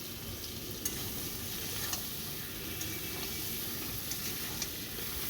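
Eggplant stirred and fried in a pan in a Bengali village kitchen, a steady close sizzle with periodic scraping clicks from the stirring utensil, no voices.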